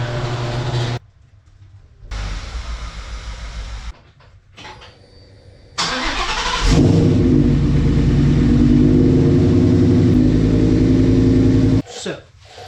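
A car engine, heard as the car is rolled onto ramps, idles in bursts broken by sudden cuts, then settles into a loud, steady, close rumble before stopping near the end.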